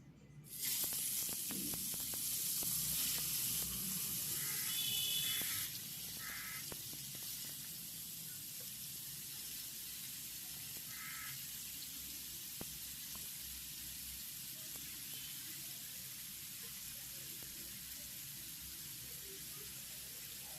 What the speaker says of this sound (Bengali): তেলটা ভালোভাবে গরম করে নিয়ে দিয়ে দেব ম্যারিনেট করা চিকেনের পিসগুলো।